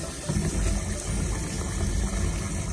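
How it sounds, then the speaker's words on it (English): Rinse water pours steadily out of a bowl of bulgur as floating bits are drained off, a close, continuous splashing rush with no pauses. "if anything floats to the top, we're just gonna drain that out"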